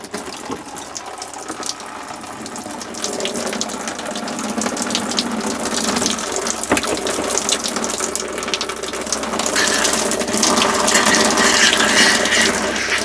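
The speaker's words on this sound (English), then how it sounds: "Now I'm going to do the actual shower faucet. I'm going to turn on the hot and the cold." Hot and cold water runs from a shower faucet inside an R-Pod camper trailer, a steady, loud gushing spray that swells slightly and continues unbroken without talk.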